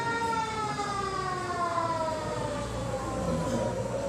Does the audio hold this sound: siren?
yes